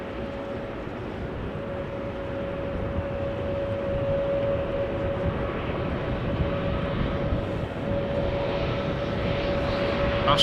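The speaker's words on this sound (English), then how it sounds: "Austrian A320neo to Vienna, flight 372, making its way over to the threshold of 18 left." An Austrian Airlines A320neo taxis toward runway 18 left at rainy, wet Amsterdam Schiphol, its engines giving a steady low rumble with a faint sustained whine, constant throughout at moderate distance.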